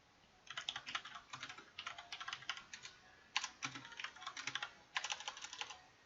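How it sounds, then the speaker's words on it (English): Quick bursts of clicking keystrokes on a computer keyboard, faint and close, come in three rapid runs separated by short pauses as text is typed into Notepad. "I'm going to write that down in Notepad here."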